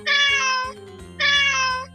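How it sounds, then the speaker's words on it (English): Two drawn-out cat meows, each under a second, loud and clear, separated by a short pause, over a faint rhythmic background. "Meow, meow."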